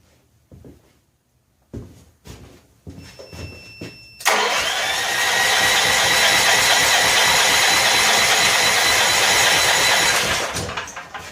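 Near and loud, an 8500 watt electric-start generator turns over with a few quiet clicks and knocks, then fires up abruptly and runs at a steady, even drone for several seconds before cutting off near the end.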